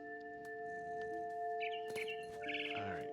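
Bird chirps ring out in the video game What Remains of Edith Finch, several quick tweets over a humming game soundscape, fairly faint and without talk.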